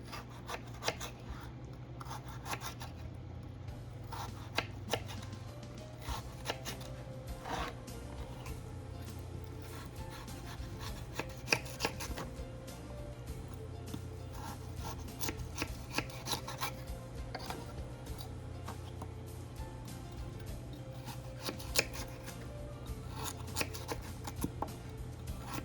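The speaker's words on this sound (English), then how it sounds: "I just want to show you how I cut them into 3 strips and then 1 inch." Knife slicing Idaho potatoes into strips and then one-inch cubes on a cutting board, a long run of soft, irregular cuts and taps, quiet and close.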